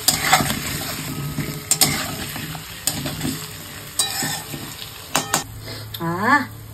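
Onions and potatoes fry in a pan for a home-cooked meat curry lunch, with sizzling under repeated stirring scrapes and sharp clinks of a spatula against the pan, plus a brief whistling tone near the end.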